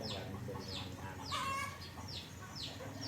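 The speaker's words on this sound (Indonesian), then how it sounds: "Dengerin patokan ayam" Chickens cluck and cackle in a repeated, rhythmic pattern of sharp calls roughly every half second, close by over steady outdoor background noise, with one longer drawn-out call near the middle.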